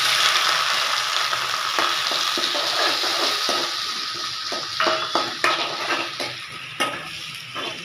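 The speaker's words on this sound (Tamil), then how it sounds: "வெங்காயம் நல்லா வதங்கணும்" Onions frying in a pan with whole cardamom, cinnamon and cloves for a coconut-milk chicken gravy, a loud continuous sizzle up close, broken by repeated scrapes and clicks of a spoon stirring.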